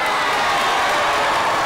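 High school students cheering in a gym, a dense continuous wash of crowd noise and shouting for a brief moment, loud and close.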